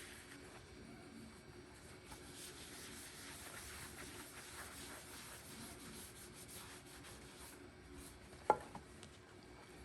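A blue shop towel rubs a product onto an outdoor thermometer with a faint, steady scrubbing hiss close by, then one short sharp knock near the end, with no talking.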